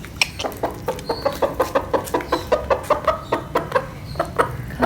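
A flock of backyard hens clucks and pecks steadily while eating a new feed for the first time, with a dense, rhythmic run of close, busy clucks and peck sounds and no talking.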